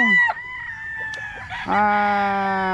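A rooster crows twice on a chicken farm where stags are raised, first a short call near the start and then a long, loud, sustained crow from about the midpoint to the end, with faint clucking between the calls.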